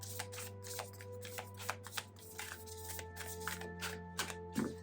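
Tarot cards being shuffled by hand, quick repeated riffling and flicking bursts close to the mic over a steady low hum, with a few soft taps and rustles.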